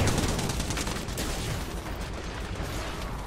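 Rapid gunfire from a battle in the video game Apex Legends, a dense burst of overlapping shots near and loud, continuing steadily across the whole stretch.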